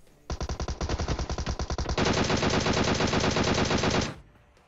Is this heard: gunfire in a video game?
yes